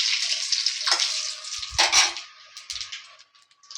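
Bay leaves, dried red chillies and panch phoron drop into hot oil. They set off a bright crackling sizzle that surges twice and then settles into fainter spitting. Nobody speaks.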